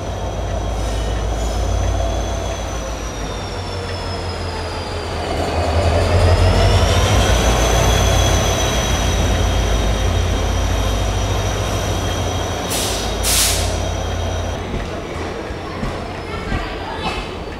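Veraval Ahmedabad Intercity Express train pulling into a station platform, a loud continuous rumble of wheels on rails with a long squealing whine that bends in pitch, and a couple of brief sharp bursts near the end.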